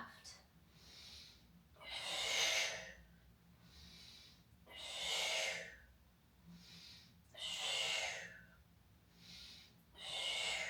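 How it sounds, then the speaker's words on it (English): Slow, deliberate breaths during a core exercise, with four long airy inhales and exhales that rise and fall in an even rhythm, heard close and clear and separated by quiet pauses. "We're going to inhale right. We're going to exhale left. Inhale right. Exhale to the left."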